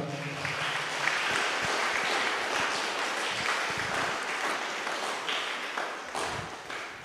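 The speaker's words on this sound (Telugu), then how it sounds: "కావలసిన వాళ్ళు గట్టిగా చప్పట్లు కొడతారా?" A church congregation claps loudly together, a dense, sustained wash of hand claps filling the hall for several seconds before thinning out and tapering off.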